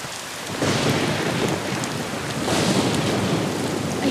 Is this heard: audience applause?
no